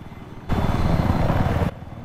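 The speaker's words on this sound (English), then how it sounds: "Chopper is up." A helicopter in the Battlefield game on the Caspian Border map roars in loud and close, a steady rotor and engine drone that starts abruptly and holds for over a second before cutting off.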